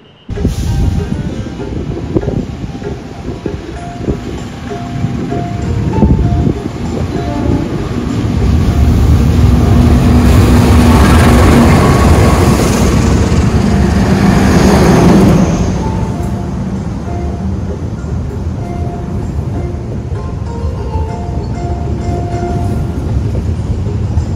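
The new Gunungjati train rolls into platform 4 at Gambir station, a sustained heavy rumble of wheels and cars swelling as it passes close, with a brief horn-like tone and a steady drone continuing as it slows.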